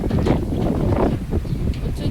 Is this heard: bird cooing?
no